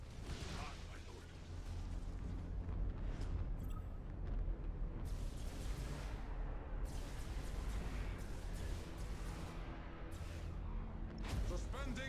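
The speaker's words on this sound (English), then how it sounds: "Tell them to detonate the mines. That explosion should clean our tails of these traitors." Orbital mines detonate in the Battlefleet Gothic Armada 2 video game as a continuous heavy rumble of explosions and bursts, dense and loud throughout, layered with game sound effects.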